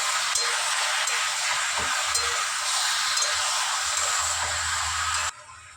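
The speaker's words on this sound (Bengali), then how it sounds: "মাংসটা আমার মিনিট 5-এর মতন ভাজা হয়ে গেছে" Chicken meat fries in a pan with a dense, steady sizzle and occasional scrapes and taps of stirring, loud and close, cutting off abruptly at the end.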